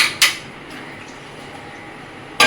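A metal lid clanks onto a pot of dough being cooked in water with mustard oil and salt, two sharp clattering hits at the start and end with quiet kitchen hiss between.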